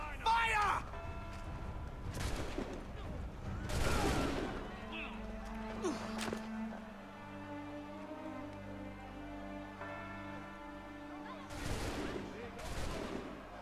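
Musket volleys in Assassin's Creed 3 ring out as a few loud, sharp bangs spaced across the stretch, mixed with battle noise, a whooshing hit and a low sustained drone, while voices shout between shots.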